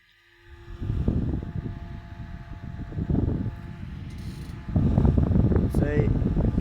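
Small recycled microwave oven fan motor spinning and blowing air, a steady close whir and rush that grows louder partway through, with someone talking over it.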